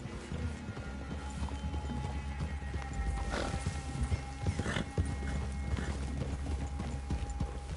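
Horses trot with steady clip-clop hoofbeats through Red Dead Redemption 2, moderately close and continuous, with a faint snort or whinny and soft ambient noise, no talking.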